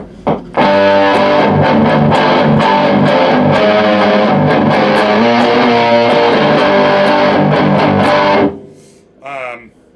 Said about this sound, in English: this is really the thickest distortion I'll have